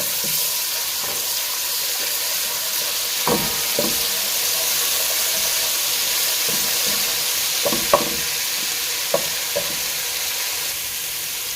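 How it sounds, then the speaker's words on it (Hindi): Steady oil sizzle of garlic ginger paste frying in a pan, with occasional scraping stirs and small taps throughout. "इसको हम हल्का सा सोते करेंगे।"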